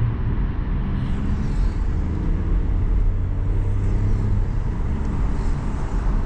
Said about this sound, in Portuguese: Parece que é um barulho original do carro, assim.